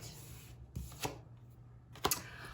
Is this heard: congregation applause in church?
no